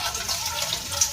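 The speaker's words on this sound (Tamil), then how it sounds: "இதுதான் குடி தண்ணி பைப்பு." Water gushes steadily from a municipal drinking water pipe in Mumbai, a continuous close hiss and splash with no talking.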